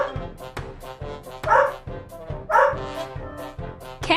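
A dog barks in a children's learning song, with short yips and bow-wows repeating in a regular rhythm over a steady musical backing.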